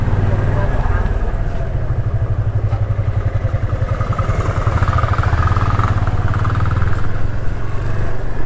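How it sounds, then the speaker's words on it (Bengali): A group of dirt bikes riding past on a mountain road near Marfa village on the Jomsom route in Nepal, a loud, steady rhythmic engine chugging that holds close throughout. "ডার্ট বাইকের একটা গ্রুপ দেখো"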